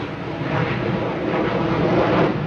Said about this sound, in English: And that jet sound is the air and water show in Chicago.